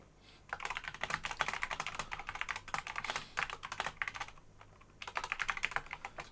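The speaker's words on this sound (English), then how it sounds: "having a mechanical keyboard just makes everything sound so aggressive" Rapid, clacky typing on a mechanical keyboard sounds close and steady, with a brief pause before another quick flurry of keystrokes, heard alone without talking.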